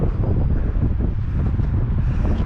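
Wind blowing hard along a city street, a steady, loud rumbling roar of gusts buffeting the microphone throughout, with no clear voices.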